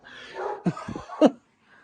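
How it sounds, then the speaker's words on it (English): Dogs barking outdoors in a few short, mid-distance yelps and barks over wind-like background noise, with a brief pause after the last loud bark. "I don't know what these dogs are carrying on about."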